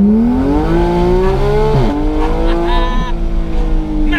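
A sports car's engine revs hard and loud while driving, rising in pitch with a brief lift and gear-change dip midway, then climbing again, close and continuous with faint tire noise.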